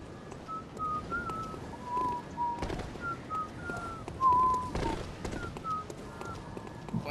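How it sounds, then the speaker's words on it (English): A person whistles the Jurassic World soundtrack in short melodic phrases over video game audio, a tune delivered in a thin, moderately loud whistle with brief pauses between notes. "Why are you whistling the soundtrack to Jurassic World?"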